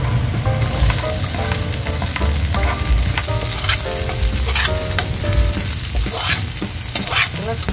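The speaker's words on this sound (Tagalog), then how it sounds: "Pwede na natin guys ilagay yung ating bawang. Isunod na rin natin guys yung ating sibuyas." Garlic and then onion sauté in hot oil for chicken and liver chopsuey, giving a loud continuous sizzle and crackle with scraping and clinking as the pan is stirred throughout.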